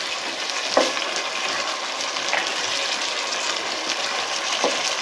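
Chicken korma being stirred as it fries over a high flame, a steady loud sizzle and crackle with occasional scraping strokes of the spoon in the pot, no voices.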